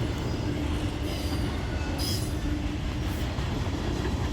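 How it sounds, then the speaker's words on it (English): Norfolk Southern train rolling along the rails while picking up speed, a dense, steady rumble of wheels close by with faint squeals riding on top and no voices. "you can see the train gradually speed up over time"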